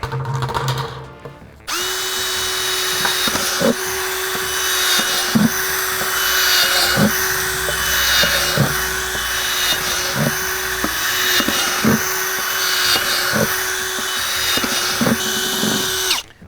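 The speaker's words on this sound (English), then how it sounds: "we're going to drill about 6 to 8 5/16 holes into the bottom of our bin" A drill bores 5/16-inch holes into the bottom of a plastic bin, a close, steady high whine broken by a regular series of short bursts as each hole is cut.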